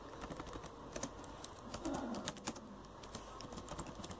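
Keys clatter quietly on a computer keyboard as a script is typed in Proteus, an uneven run of light close clicks with short pauses and a faint background hiss.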